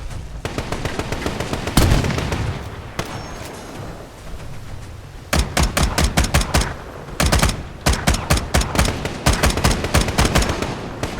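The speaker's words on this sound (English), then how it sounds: "Shooting him in the head." Rapid gunfire in the Life in the Ruins video game, with sustained automatic bursts and a pause, then repeated rhythmic volleys of loud, close shots firing at an enemy.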